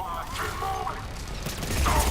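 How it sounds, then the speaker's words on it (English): Automatic fire from the Blood Pack Punisher submachine gun with armor-piercing ammo in Mass Effect 3: dense, continuous combat noise with rattling shots and mechanical clatter under the game's ambient sound. "Let's try the Blood Pack Punisher SMG."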